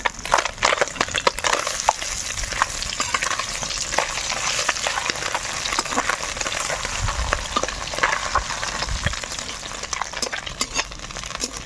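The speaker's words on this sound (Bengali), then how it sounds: "মাছগুলো এক পিট হয়ে গেছে এবার উল্টে দেবো" Small puti fish fry in hot mustard oil in a pan, a steady close sizzle and crackle with scraping and clinks as the fish are stirred and turned over, no talking.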